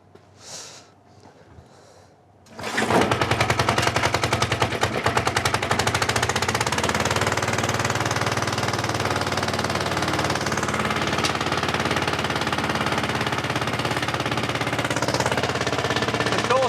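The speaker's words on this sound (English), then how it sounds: "It's a lawnmower." A 1959 petrol lawn mower engine sputters, then roars to life after a couple of seconds and keeps running loud and steady, close by.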